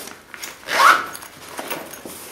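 A single quick zip as a full-size zippered pocket on a Maxpedition Malaga Gearslinger shoulder backpack is pulled open or closed, close and brief amid quiet handling rustle.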